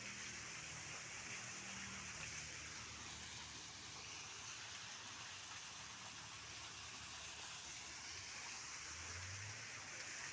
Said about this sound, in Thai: อันนี้เป็นน้ำตกตรงฐานด้านหน้าหลวงปู่